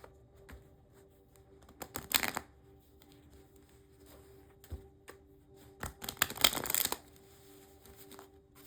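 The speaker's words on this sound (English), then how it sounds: "I tried to shuffle the cards" Tarot cards being shuffled in two short bursts of riffling and clicking, separated by a few faint taps, all heard close and quiet with no talk.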